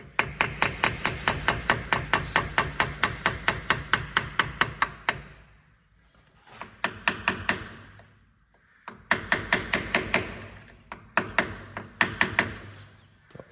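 A screwdriver used as a chisel is struck with a hammer against the hub nut of a Land Rover Defender, with long runs of rapid, loud metallic blows broken by short pauses, and no talk.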